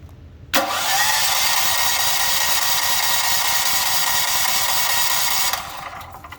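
A Gentron 10,000-watt generator cranks on its electric start and catches, then its engine runs at a loud, steady roar for several seconds before the sound drops off near the end.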